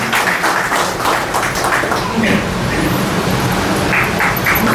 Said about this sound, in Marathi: तर एकदा सगळ्यांनी जोरदार टाळ्या त्याच्याकरता.